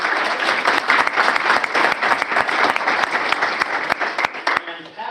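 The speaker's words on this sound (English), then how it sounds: "Let's give her a round of" Applause at a county recognition ceremony honoring long-serving staff, dense and sustained clapping from a sizable crowd that tapers off at the end.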